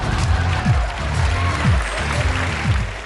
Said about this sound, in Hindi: अजय देवगन के लिए जोरदार तालियां